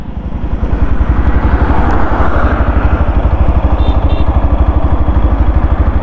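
A 2024 Yamaha FZS V4 motorcycle rides in first gear with no throttle, its single-cylinder engine thumping in a loud, steady, rapid beat close to the listener.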